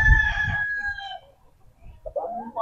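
A Green Legged Sweater gamefowl rooster crows once, loud and close, with a long harmonic call that trails off, then a short clucking sound follows. A brief stretch of quiet sits between the crow and the clucks.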